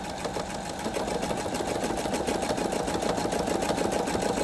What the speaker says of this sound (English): Just hit the start button again and it'll do that exact buttonhole stitch again.